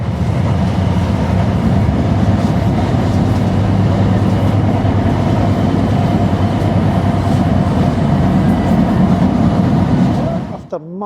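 Steady low rumble and rattle inside a moving Newcastle metro train, continuous and loud throughout with faint wheel clatter, easing off at the very end.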